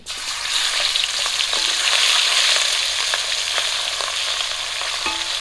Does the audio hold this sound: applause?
no